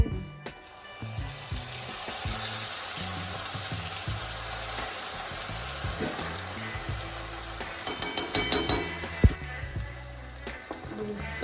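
Mustard seeds, sesame, asafoetida, chili, bay leaf and ginger sauté in hot oil with a steady close sizzle, punctuated near the end by a quick run of popping crackles, no voices.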